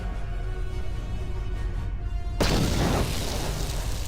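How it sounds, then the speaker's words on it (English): A grenade goes off in Star Wars: Knights of the Old Republic: one sudden, loud boom cuts through the game's background hum, then a dense, roaring burst lingers for over a second. "Grenade!"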